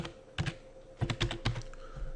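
Bursts of typing on a computer keyboard, quiet and close, a few clustered keystrokes with short pauses between, no talking.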